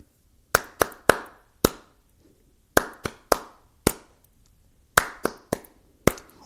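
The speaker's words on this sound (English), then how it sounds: "You can have a hand clap." Sharp hand claps ring out in a loose rhythmic pattern, in groups of two or three with short pauses between them, close and crisp with no voices.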